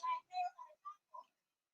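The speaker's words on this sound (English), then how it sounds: "Did these sticks have a whistling sound?" Thin whistling tones from sticks in a movie scene sound in a few short separate bursts, faint and fading, with gaps of silence between them.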